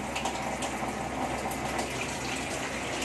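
Water pours steadily into a kadai of cooked chicken, a continuous close gushing and splashing that stays even for the whole three seconds.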